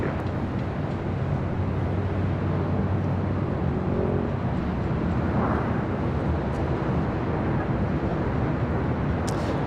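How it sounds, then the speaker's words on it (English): A Delta Airlines A321 arriving at LAX from Atlanta to land on runway 24 left gives a loud, continuous jet rumble and rushing roar that holds steady throughout, with no voices over it. "This is Delta Airlines 457 coming in from Atlanta, Georgia on an A321"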